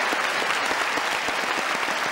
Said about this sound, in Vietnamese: Nếu các bác đồng tình thì vỗ tay cho em đi.